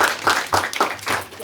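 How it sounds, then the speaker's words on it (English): Applause for a panel at a women of color in STEM event, a short stretch of uneven clapping in rhythmic bursts, with voices mixed in underneath. "I want to give our panel a round of applause."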